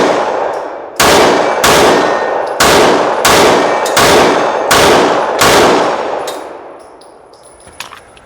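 A Steyr M9A2 pistol fires eight loud, sharp shots in an even, fairly quick rhythm, each with a ringing tail, before the echoes fade into quiet.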